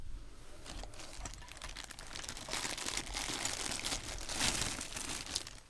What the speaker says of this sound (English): You knew we'd get to crinkly plastic bags pretty soon